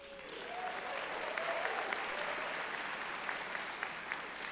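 Sustained applause from a large crowd at Florida Atlantic University's fall commencement ceremony, a steady dense wash of clapping with a few sharper claps standing out, briefly overlapped by a faint tonal sound early on.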